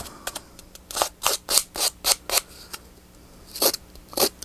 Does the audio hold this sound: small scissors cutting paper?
yes